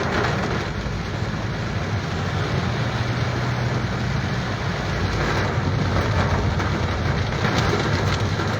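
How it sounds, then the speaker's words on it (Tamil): Heavy rain pours down in a loud, steady roar, unbroken throughout, with no voices. "கடுமையான மழை தொடர்ந்து பெஞ்சிகிட்ருக்கு"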